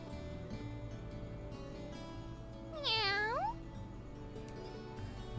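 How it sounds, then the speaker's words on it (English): A single clear meow from a cat in the video game The Legend of Heroes: Trails of Cold Steel, a rising then falling cry that lasts under a second over soft game background sound. "Oh, the cat!"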